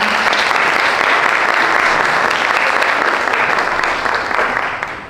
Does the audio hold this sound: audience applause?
yes